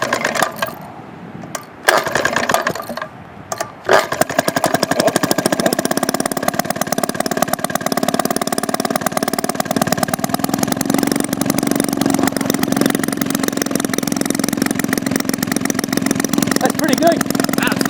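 A Maytag 72 single-cylinder engine kick-started after repair: a few kicks and pops, then it catches and settles into a rapid, even putter close by, with people talking briefly near the start.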